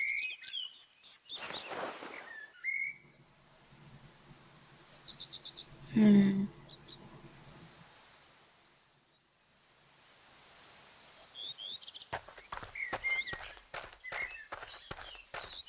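Caged pigeons in a video game give brief chirping calls early on amid soft ambience, followed near the end by a quick run of sharp, footstep-like taps.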